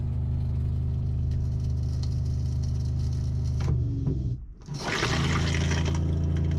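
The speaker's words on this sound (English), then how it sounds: "Let's flush it." An RV toilet flushes close by, water rushing and gurgling steadily, then dropping into a brief hollow lull as the bowl drains before the refill surges back loud and continuous.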